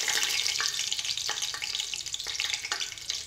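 Curry leaves hit hot oil in a pressure cooker, giving a steady bright sizzle with a few sharp crackling pops spread through it, close by and fairly loud, with no voices.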